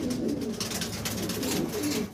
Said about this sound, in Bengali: একদম ইয়াং কবুতর